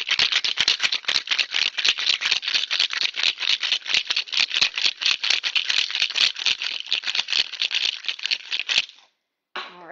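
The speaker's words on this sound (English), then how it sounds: "So add a little ice there. Again, shake it on up." Ice rattling hard inside a cocktail shaker during a holiday drink made with strawberry, a fast, steady run of sharp clattering hits for about nine seconds, close and loud, then stopping.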